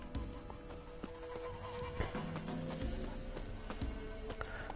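Geralt's horse Roach in The Witcher 3, a quiet whinny and soft snorting with hoof clops against faint outdoor ambience, no talking.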